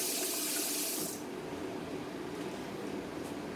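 A knife is rinsed under a running kitchen tap, giving a steady, soft rush of water that starts a little brighter and settles into an even flow.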